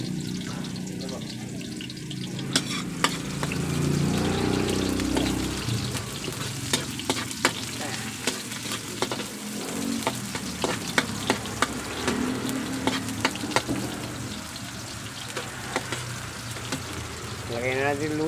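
Onions frying in a pan for Filipino escabeche, a steady sizzle broken by scraping stir strokes and clinks of the utensil, with a brief run of tap water partway through.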